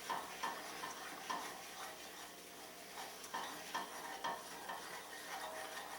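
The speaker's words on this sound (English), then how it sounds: "Good roux, you really want to get the flour all mixed in." Flour being stirred into a roux in a pot for a shrimp and crabmeat Newburg, with soft scraping strokes and a quiet sizzle, plus occasional light clinks of utensil against pot, close and steady with no talk.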